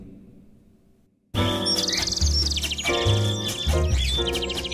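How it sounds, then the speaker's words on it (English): Bright bird twittering bursts in suddenly over a full band playing, the chirps fluttering high above steady chords and bass. "And we now have birds twittering away"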